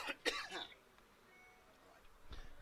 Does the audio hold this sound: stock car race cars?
no